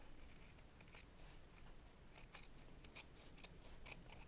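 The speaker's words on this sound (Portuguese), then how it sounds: "Vou cortar aqui também, até a altura do papel cartão." Scissors cut through card paper in a run of short snips, faint and close with a few sharper clicks of the blades, set against quiet room hiss.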